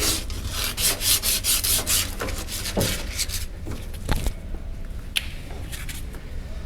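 Emery cloth scrubbed hard against a rusted metal conduit pipe to reach bare metal, a loud, close, rhythmic rasping in steady strokes that thins out into scattered scrapes and knocks.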